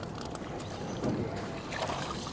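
Wooden rowboat rowed by arm along a river at Trang An, Ninh Binh, with soft water swishes and paddle splashes over a diffuse outdoor background, fairly quiet and steady.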